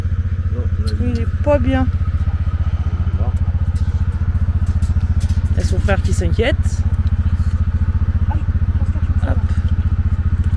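A small engine putters steadily with a rapid, even throb throughout, while people talk briefly over it.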